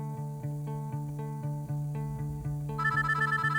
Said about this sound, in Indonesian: Maaf ya, itu suara handphone aku.